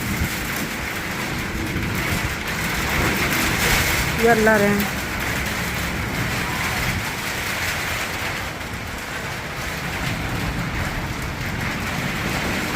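Heavy rain and strong gusting wind, strong enough to blow off a shed roof and knock over a board, roar steadily and loud throughout while a voice briefly speaks over it.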